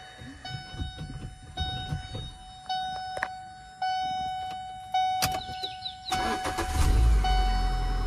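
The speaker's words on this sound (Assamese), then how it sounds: "এয়া হৈছে পেট্ৰল ইঞ্জিনৰ চাউণ্ড," A Chevrolet Sail petrol car sits with a door open while a warning chime beeps repeatedly. The engine then cranks and catches, settling into a low, smooth idle close by.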